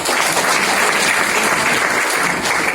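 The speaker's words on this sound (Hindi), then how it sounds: "चांद बाबू जी के लिए तालियां बजा दें।" Audience at a talk applauding Chand Babu ji, a loud, continuous burst of crowd clapping that stays even and close for the whole stretch without speech.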